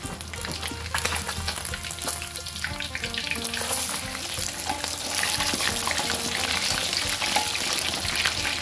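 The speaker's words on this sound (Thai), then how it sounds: "ถ้าเราใส่ขิงไปในน้ำมันก่อนนะคะเราทอดปลาปลาจะไม่ติดกระทะนะคะ" Tilapia fries in hot oil with ginger in a pan, giving a loud, continuous sizzle and crackle throughout, with occasional scraping and stirring clicks from a spatula and no talking.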